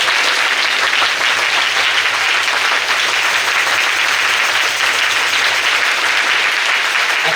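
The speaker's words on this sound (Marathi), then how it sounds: "जोरात टाळी प्रभूसाठी," Loud, sustained clapping from a church congregation at a Sunday prayer meeting, a dense wall of applause that holds steady from start to end with no talk over it.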